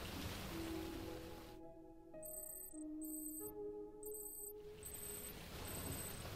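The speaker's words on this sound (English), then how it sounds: "Still raining, huh?" Steady rain washes and hisses in the video game Death Stranding, with a chiming musical tone layered over it for a few seconds.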